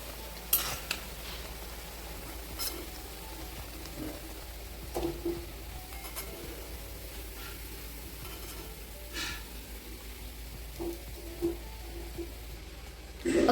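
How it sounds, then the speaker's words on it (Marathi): Kothimbir vadi, coriander fritters, shallow-fry in oil over a low flame. A faint, steady sizzle continues throughout, with scattered light clinks of a utensil against the pan. "अशाच सर्व वड्या आपण तळून घेऊयात."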